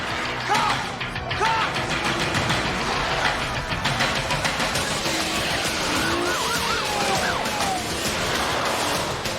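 Police cars arriving in the racing game Need for Speed: Most Wanted (2005): wailing sirens rise and fall over a steady engine roar and traffic noise, loud and continuous throughout.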